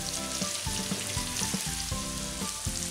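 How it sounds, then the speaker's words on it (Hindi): Long-sliced onions frying in oil with red chillies and bay leaves for a Bihari chicken dish, a dense continuous sizzle broken by rhythmic scraping and stirring knocks in the pan. "अब हम सेम तेल में 4 लाल मिर्च, 4 बेलीव्स और 600 ग्राम लंबे कटे हुए प्याज डालेंगे और इसे गोल्डन ब्राउन"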